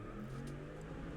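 A car engine revs loudly outside, a steady low rumble running through the whole moment with no talk over it.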